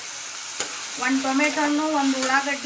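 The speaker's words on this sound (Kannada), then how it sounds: "ಇದನ್ನು ಸರಿಯಾಗಿ ನಾನು ಇವಾಗ ಹುರಿತೀನಿ" Eggplant frying in oil in a pan with curry leaves and coriander for a North Karnataka brinjal bharta: a steady close sizzle with stirring, and someone speaking over it for most of the time.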